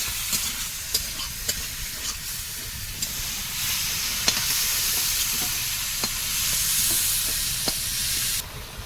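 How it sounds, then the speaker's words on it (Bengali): Turmeric powder and salt sizzle and fry in hot oil in a pan while a spoon stirs, a steady hiss broken by sharp scraping clicks of the utensil against the pan. "হলুদ গুঁড়ো লবণ নেড়ে চেড়ে একটু ভেজে নেবো"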